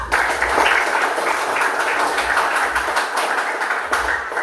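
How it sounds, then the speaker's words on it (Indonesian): A classroom of students applauds their group presentations, a dense, fairly loud patter of many hands clapping without pause for a few seconds. "Ya, tepuk tangan dulu."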